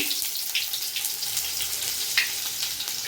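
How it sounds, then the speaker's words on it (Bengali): Whole bay leaf, a dried red chilli and chopped onion frying in a pan, a soft continuous sizzle with light crackles and a brief spattering burst, fairly quiet and close. "এবার দিয়ে দেবো একটা গোটা তেজপাতা একটা গোটা শুকনো লঙ্কা দিয়ে দেবো পেঁয়াজ কুচি"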